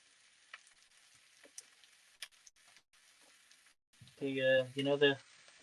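Kway teow pad thai stir fry sizzling in oil in a pan, with faint crackles and ticks at first, then a loud close burst of frying spatter toward the end.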